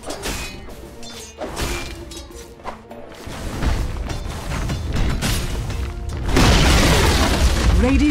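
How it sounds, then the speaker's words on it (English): Tower collapsing in a Dota 2 match, a run of heavy booms, thuds and crashing debris building to a loud, dense rumble at the end, with game sounds layered throughout. "Radiant's middle tower has fallen."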